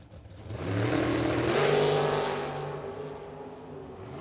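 A Camaro drag car launches and accelerates down the strip at a motorsports drag track. Its loud engine roar builds over a second, peaks near the middle and then fades slightly as the car pulls away, with no talk.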